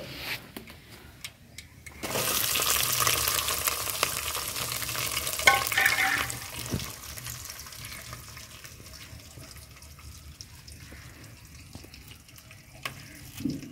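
Green chillies, onions and curry leaves drop into hot oil for a potato curry and burst into a loud, hissing sizzle that slowly settles into steady frying, with a few clinks along the way.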